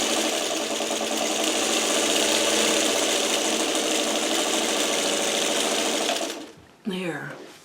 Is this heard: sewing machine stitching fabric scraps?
yes